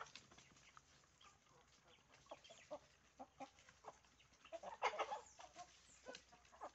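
Free-range corn-fed chickens and a rooster clucking at feeding time, a scatter of close and mid-distance clucks and squawks, busiest around the middle, with light background rustle.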